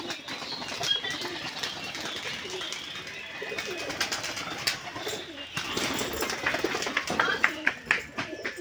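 Giribaj pigeons playing on the ground coo and flutter close by, with soft wing flaps and scuffles mixed with throaty calls in a busy, lively flock.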